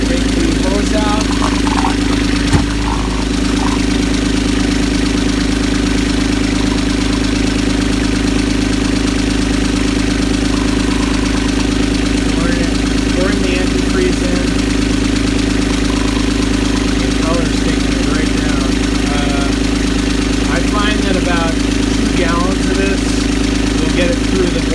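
A Universal 25XPB diesel inboard on a Catalina 30 sailboat runs steadily at idle with a loud, constant, droning chug that fills the whole stretch. A voice talks faintly over it.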